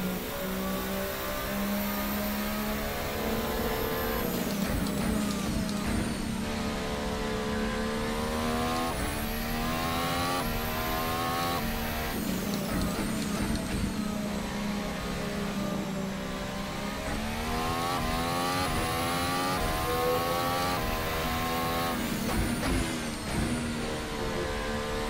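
Formula hybrid racing car engine on a careful outlap in an F1 video game, a loud continuous engine whine rising and falling through gear changes and revs, with no talking.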